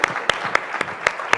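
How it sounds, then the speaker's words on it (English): Brief applause for National Youth Service Corps members, a handful of distinct, evenly spaced claps over a low murmur of room noise. "I will join you to give another round of applause for our young men and women of the National Youth"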